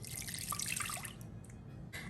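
About three-quarters of a cup of liquid is poured from a teacup into a mixing bowl for drop scone batter, a close, splashy stream for about a second, then a few sparse drips.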